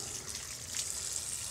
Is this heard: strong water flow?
yes